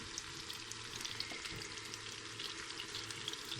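Halloumi cheese fries in a hot pan with a steady, close sizzle and crackle, running alone without voices for a few seconds.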